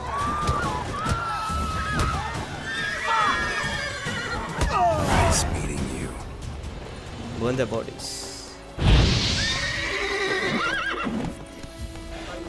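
Several horse whinnies and neighs with clip-clopping hooves in the video game The Witcher 3: Wild Hunt, set amid game sound effects and clashing noises, while voices talk over them.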